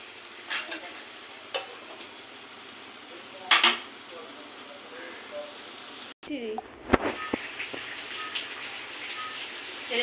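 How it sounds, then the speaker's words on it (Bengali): Meat sautéed and stirred in a pan, a moderate sizzle broken by scraping strokes and a few sharp metallic clinks of a spoon on the pan, with a brief muffled pause midway, close and fairly quiet. "মাংসটা কষানো হচ্ছে"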